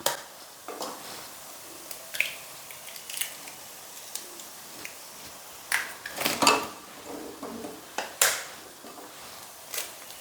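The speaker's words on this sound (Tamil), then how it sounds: "இப்போ முட்டை உடச்சி ஊற்றிக்கிறேன்" An egg is cracked and poured into hot oil in a pan, heard as a series of faint, close clicks and taps against the pan, with short crackles between them and no voices.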